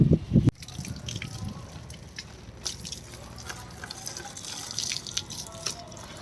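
Water poured onto trees in a sunny outdoor yard, a broad splashing trickle with scattered drips after a brief voice at the start, steady and moderately close.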